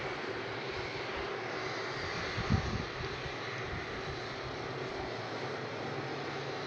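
A fixed-wing airliner at Brussels Airport rumbles steadily at a distance, a broad engine roar heard outdoors with wind buffeting the microphone and a brief louder gust partway through.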